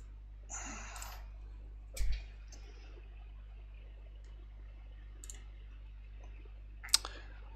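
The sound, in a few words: clicking on a Bluetooth keyboard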